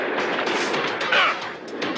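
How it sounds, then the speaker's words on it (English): Dense, roaring movie-trailer explosions rumble continuously and loudly, booming blasts layered into a thick wall of noise with no clear gaps. "I didn't realize how many explosions there was"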